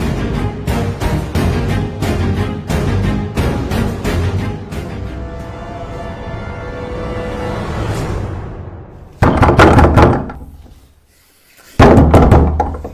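Heavy fists pound repeatedly on a door in rapid, loud bursts, pausing briefly before two more rounds of forceful banging.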